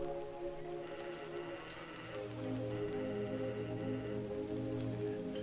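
Soft, melancholic video game music plays steadily with sustained tones and gentle shifting chords, moderately quiet throughout with no voices.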